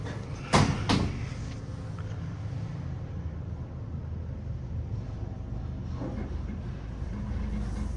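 A ThyssenKrupp traction elevator door in a Boston parking garage rattles open with a brief clatter near the start, then a steady low rumble of wind and ambient noise follows.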